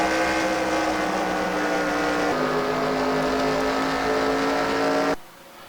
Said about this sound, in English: we're getting ready to go racing here, folks, as they take the green flag.